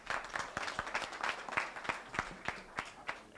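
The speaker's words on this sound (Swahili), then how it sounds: "Makofi." Modest applause from a seminar audience in Nairobi, a handful of distinct claps in loose rhythm over a softer wash of hands, not very loud.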